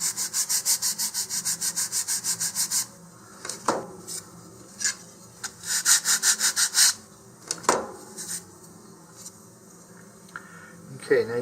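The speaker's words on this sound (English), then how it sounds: "And here I just need to really lightly sand it." Light hand sanding on a model rocket part, a quick run of even rhythmic rubbing strokes followed by sparser scrapes and small knocks, close and fairly quiet.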